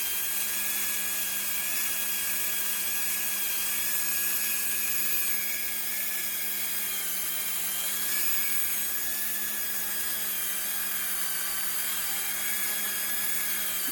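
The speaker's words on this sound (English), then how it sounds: "I'm just going to take my orange wheel and trim around these edges." Rotary tool fitted with an orange wheel trimming the edges of a polymer clay pendant, a continuous high whine with a steady grinding hiss beneath it, heard close and alone without voices.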